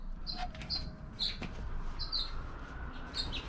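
Small birds chirp outdoors in short, bright, repeated tweets spaced about every half second to second, fairly close and clear over soft background noise, with a hummingbird around.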